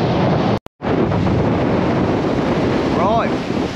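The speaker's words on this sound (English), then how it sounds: "That wind is really picked up now." Strong wind buffets the microphone on a Dorset beach where someone is cod and plaice fishing, a constant loud roar with surf mixed in and a short dropout near the start.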